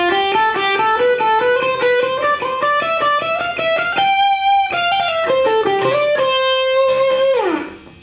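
An electric guitar with a distorted effects tone plays a scale sequence in groups of three, a steady run of sustained notes climbing the neck, loud and alone, ending on a downward slide.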